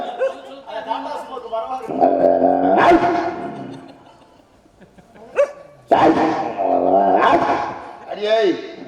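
A dog barks and yelps loudly nearby in repeated bursts, mixed with excited human voices talking and shouting.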